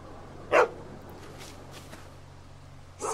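A dog in The Walking Dead Season 2 video game gives two short, sharp barks about two and a half seconds apart, close and clear over a quiet low hum.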